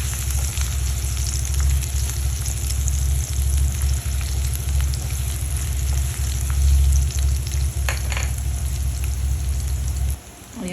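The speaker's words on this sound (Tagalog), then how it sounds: "Unahin ko muna yung bawang o yung garlic. Ayan, so mag-golden brown muna siya." Garlic fries in a pan, giving a steady, dense sizzle with fine crackles. It is close, continuous and even throughout, then drops off near the end.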